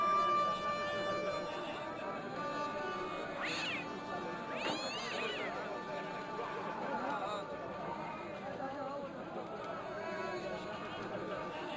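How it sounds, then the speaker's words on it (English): A cat meows a few times in the video game Broken Sword, with two rising cries standing out against a steady game ambience and music. "The cat was an ugly brute who looked like he owned the joint."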